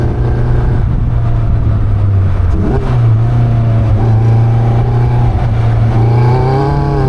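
A Caterham 340S sports car engine revs hard and accelerates, its pitch climbing through gears with brief dips at shifts, loud and close, heard from inside the open car without talk.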